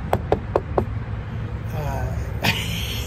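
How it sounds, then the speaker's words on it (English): Four quick knuckle raps on wood come close and crisp at an even pace, then a single louder bump follows after a pause, over a low steady background hum. "But knock on wood,"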